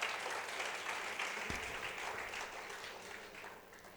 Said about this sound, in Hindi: मैं चाहूँगा एक बार ज़ोरदार तालियां बजाएं